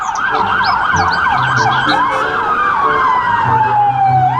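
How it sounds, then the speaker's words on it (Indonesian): Toy police car siren wailing loudly and continuously, a rising-and-falling electronic tone with a faint rhythmic rattle underneath, close by and with no talking. "mobil polisi."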